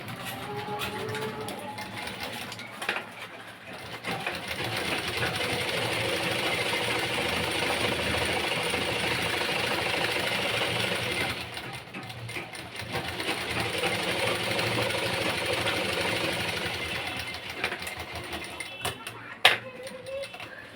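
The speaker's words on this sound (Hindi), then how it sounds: "अब अस्तर के ऊपर हम सिलाई चलाएंगे बड़ी करके।" A sewing machine stitching along the lining of a padded blouse runs in long steady whirring bursts, stopping briefly between seams with small clicks of the mechanism, close up, with no talking.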